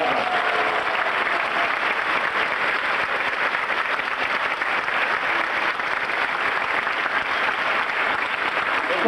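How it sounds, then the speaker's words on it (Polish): Sustained audience applause at the 1994 Great Orchestra of Christmas Charity concert in Poland: a thick, unbroken roar of many hands clapping that holds at a steady loud level throughout. "Brawa dla Państwa"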